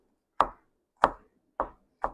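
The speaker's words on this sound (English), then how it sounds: "we're going to rough chop that garlic just a little bit more." A knife rough-chops garlic on a cutting board, four sharp, distinct thuds at an unhurried, uneven pace, close and clear with nothing else audible.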